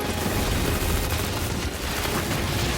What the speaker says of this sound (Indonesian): melepaskan tembakan pada Liam.